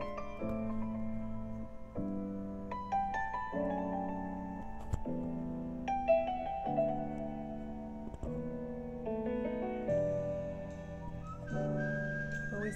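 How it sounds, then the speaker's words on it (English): A melody is whistled in a song played from a 45 record on a home stereo, clear and tuneful over soft backing music with no talk. "And I loved the whistling."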